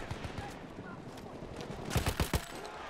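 Battlefield 1 rifle and machine-gun fire crackles in sparse distant shots, then a louder cluster of rapid bursts, while a player talks over the battle.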